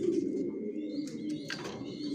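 A grizzle racing homing pigeon hen, sitting on her young, coos in a soft steady low murmur close by, with a few brief higher chirps near the end.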